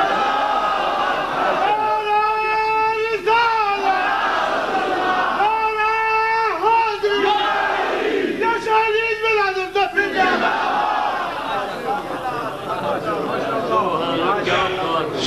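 A crowd at an Islamic religious gathering chants a slogan in three loud unison bursts, each a long sustained call, with a voice leading in between.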